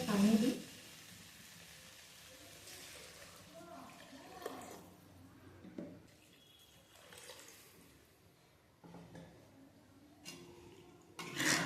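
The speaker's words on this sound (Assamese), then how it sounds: "ইয়াতে মই এতিয়া পানী দিম" Water is poured into a hot pan of fried ingredients for an Assamese-style fish curry, raising a loud sizzling hiss that quickly settles into quieter bubbling while a person talks throughout.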